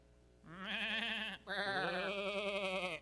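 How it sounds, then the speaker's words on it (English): A sheep bleats on a farm in two close, loud, wavering calls, the first shorter and the second longer with a trembling vibrato, over quiet background. "I guess I've got some sheep to tend to"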